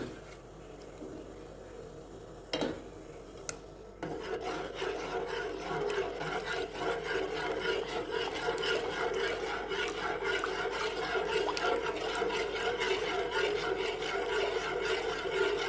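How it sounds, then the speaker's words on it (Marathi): Rice flour batter being stirred steadily into boiling water in a pot for kurdai papad, a continuous rasping, scraping stir with a couple of sharp knocks early on, close and moderately loud, no talk. "आणि सारखं सारखं हलवत राहायचं आहे यामध्ये गाठी पडल्या नाही पाहिजे"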